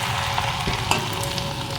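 Rice frying in hot oil in a wok for crisp fried rice (chal bhaja), giving a steady, close, dense sizzle with a few brief stirring clicks throughout.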